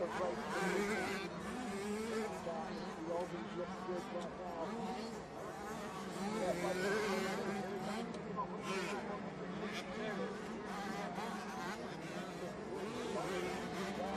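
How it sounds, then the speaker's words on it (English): Small Yamaha YZ65 motocross bikes race down into a valley on a dirt track, their high-pitched two-stroke engines buzzing steadily and loudly throughout while a commentator talks over them. "These YZ65 CC machines as they step down into the bottom of the valley"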